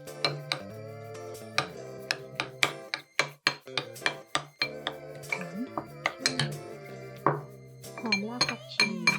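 Pork filling is mixed with sugar, salt and soy sauce in a bowl, with repeated sharp clinks and taps of a utensil against the dish in an irregular rhythm, close and fairly crisp, over a steady tonal background.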